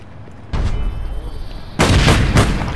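Grenade blasts in the online shooter APB Reloaded come as two loud booms about a second apart, each leaving a rumbling tail, with voices faint beneath them.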